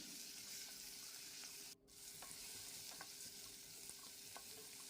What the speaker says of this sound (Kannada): ಟೊಮೊಟೊ ಸಾಫ್ಟ್ ಆಗೋ ತನಕ ಫ್ರೈ ಮಾಡ್ಕೊಳ್ತೇನೆ